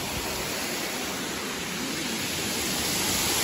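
Rain-fed waterfall spilling off the side of a dam, a steady broadband roar of rushing water that holds even and unbroken throughout with no voices.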